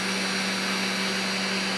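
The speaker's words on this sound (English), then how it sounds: "So let's go ahead and check the spindle, see if we can turn that on." The spindle motor of a Lunyee 3018 Ultra CNC machine runs with a steady, loud, even whine and hum, continuous throughout with no pauses.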